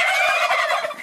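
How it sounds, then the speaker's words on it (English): A male turkey gobbles in a single rapid, warbling burst, loud and close with nothing else heard. "the sound that a turkey makes, the gobble, is actually only for male turkeys"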